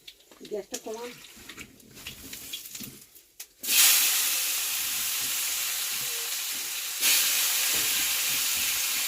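A voice speaks briefly, then hot oil bursts into a loud, sudden sizzle as panch phoron spices are dropped in, holding a steady hiss that swells again partway through.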